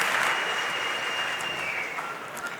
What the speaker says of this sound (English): he gets a shot of the crowd cheering for him